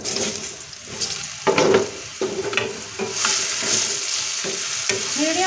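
Mushrooms sizzle in hot oil in a pan, a steady frying hiss broken by stirring scrapes and clatters of a spoon, close and fairly loud.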